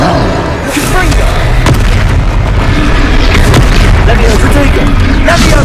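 A Confringo fire spell explodes during a troll fight in Hogwarts Legacy, heavy booming blasts and crashing impacts rolling loudly over battle noise, with a voice calling out.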